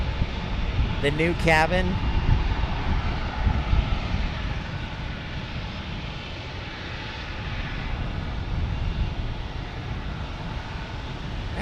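American Airlines Boeing 787-9P jet roaring steadily on its takeoff run, a loud continuous engine rumble heard under a person's voice speaking over it.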